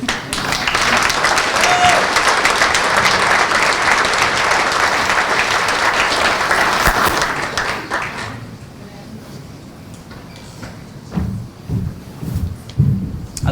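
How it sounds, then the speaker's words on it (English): Audience at an awards ceremony applauding, a loud, dense wash of clapping that lasts several seconds, then fades into faint scattered claps and a few spoken words. "we owe her a huge round of applause for the work she does"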